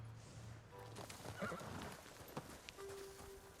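In the video game Ghost of Tsushima, a horse gives a clear whinny while its hooves clip-clop, set against a steady bed of game ambience with no talking.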